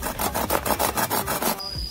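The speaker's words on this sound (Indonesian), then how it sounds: "Kemudian kita potong tepat di bonggol sini, bonggol atas sedikit lah ya." Bamboo being cut at the node with a hand saw, a steady series of about ten rasping back-and-forth strokes up close, stopping near the end.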